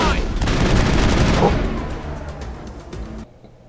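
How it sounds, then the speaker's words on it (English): Gunfire in the Mass Effect video game comes as a loud, dense burst of rapid shots and impacts that fades over a few seconds and then cuts to near silence. "He shot the box to move it"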